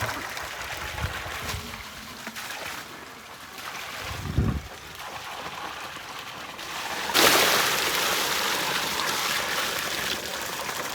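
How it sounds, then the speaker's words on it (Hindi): Water pumped into a tub for washing turmeric, a steady close rushing and splashing flow with a motor-driven hum that surges louder partway through and keeps running. "अब डाल लेते हैं पानी टप में।"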